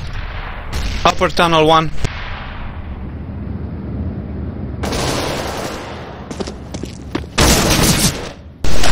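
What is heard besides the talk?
grenade explosion and gunfire in the video game Counter-Strike: Global Offensive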